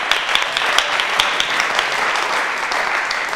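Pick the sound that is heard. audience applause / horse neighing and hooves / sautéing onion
audience applause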